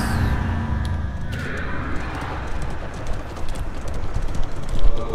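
Horse hooves clip-clop steadily from a coach in the video game Darkest Dungeon II, a continuous rhythmic trot under rumbling wheels and ambient game sound, with no talk.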